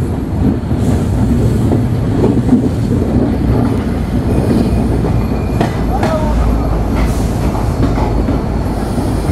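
Simanta Express train rolling into Santahar station at night, a steady loud rumble of wheels on rails with clattering and faint squeals throughout.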